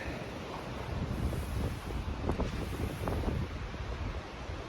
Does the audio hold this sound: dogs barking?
no